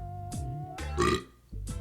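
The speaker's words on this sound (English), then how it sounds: "I'm about to burp." A person's burp, a couple of low, rough belches that rise and fall over under two seconds, close and fairly loud, with no talk over it.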